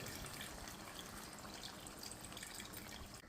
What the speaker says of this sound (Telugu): ఇప్పుడు ఈ వాటర్ యాడ్ చేద్దాం